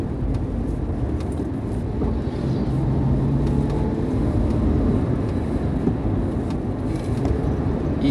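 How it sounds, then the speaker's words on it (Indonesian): An NPM bus speeds along the Trans-Sumatra eastern highway between Palembang and Betung in South Sumatra, giving a loud, steady engine and road roar with rushing wind and no talking. "Indah sekali cara bawanya bus NPM itu teman-teman, luar biasa."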